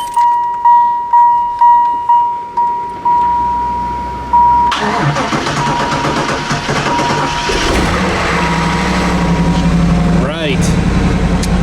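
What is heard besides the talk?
Chevrolet Camaro engine starting and idling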